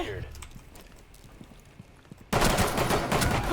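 Gunfire in the video game Rainbow Six Siege, a rapid burst of close, loud shots that erupts suddenly after quieter rattling and scattered background noise.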